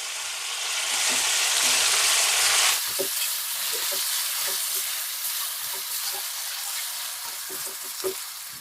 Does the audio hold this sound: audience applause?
no